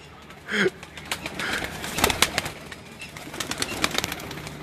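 Pigeons coo on a rooftop in Pakistan, soft repeated calls close by over outdoor background noise, with a brief louder burst near the start.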